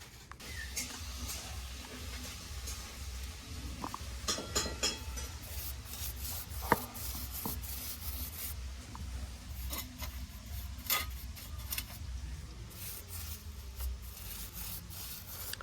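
A brush scrubs the chain of a Bajaj NS 160 motorcycle at home, producing steady, close rubbing and rasping strokes with occasional ticks and clicks, and no talking.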